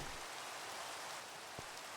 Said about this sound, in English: Of course it starts to rain.